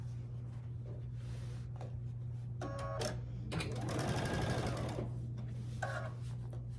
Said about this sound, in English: Now I'm going to stitch 1/4 inch down this side.